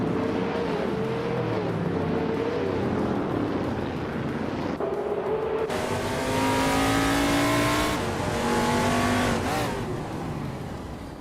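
A Plymouth Roadrunner in a racing video game roars continuously, its engine climbing and shifting pitch through gears over several seconds, with a steady loud drone and rising whines.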